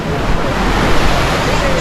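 Ocean surf washing in at a beach where a river meets the sea, a loud steady roar of waves mixed with wind buffeting the microphone and faint voices in the background.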